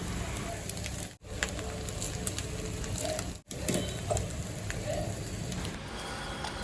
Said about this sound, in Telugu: ఒక 2 మినిట్స్ హై ఫ్లేమ్ మీద ఫ్రై చేసుకోవాలి